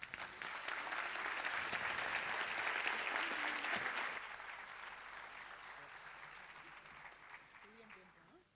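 An audience at a talk on education, technopolitics and hacktivism breaks into loud, dense clapping that holds for about four seconds, then thins and fades into quieter room noise with faint voices.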